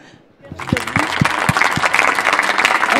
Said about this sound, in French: je vous propose qu'on les applaudisse un grand coup